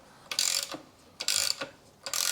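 A hex socket on a ratchet clicks in three quick bursts of rapid ratcheting, up close and distinct, while loosening a bolt on a 2008 VW Fox 1.2 petrol during an oil change.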